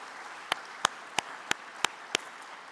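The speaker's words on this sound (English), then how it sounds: "please clap for her" Applause at a clean cooking summit in Africa, heard as six sparse, evenly spaced claps about a third of a second apart over a quiet room hush, faint and thin rather than a full ovation.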